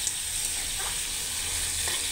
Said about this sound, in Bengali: দেখছেন ভাজা হচ্ছে মাংস